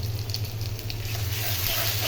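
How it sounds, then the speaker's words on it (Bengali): Ginger-garlic paste fries in a pan with a steady, close sizzle that holds even throughout, with a low constant hum underneath and no voices. "ভালো করে ভেজে নেব যাতে কাঁচা গন্ধটা চলে যায়"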